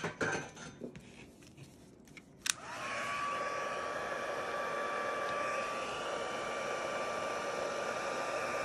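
A heat embossing tool blows hot air over embossing powder on a handmade card, starting with a sharp click and then running as a steady, loud whooshing roar to the end, after some faint handling noises at the start.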